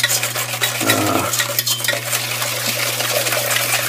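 Lemon bar batter of flour and other ingredients being stirred together in a bowl, a steady scraping, swishing mix with a brief clatter of the utensil, close and continuous with a background hum.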